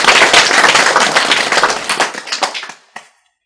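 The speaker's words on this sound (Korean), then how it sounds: "박수 쳐라!" A Buddhist lecture audience bursts into loud, dense clapping that thins into scattered claps and ends with a last sharp clap before silence.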